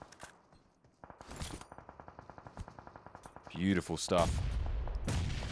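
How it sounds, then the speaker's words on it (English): Rapid rhythmic gunfire in PUBG Mobile at a professional esports match rattles as a steady string of shots, followed by louder bursts and impacts, with an excited commentator talking over it. "Instantly there's shots."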